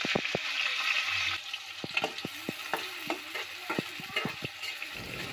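Onions frying in hot oil in a wok, a continuous sizzle broken by a series of sharp spatula knocks and scrapes at irregular intervals, close and fairly loud, no voices.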